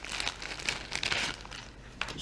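A paper instruction sheet from a Jagwire Pro Road cable kit crinkles and rustles up close, with continuous crackling and a few sharper crisp snaps, no talking.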